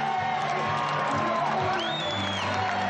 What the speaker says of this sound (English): They're standing here and they're applauding a champion.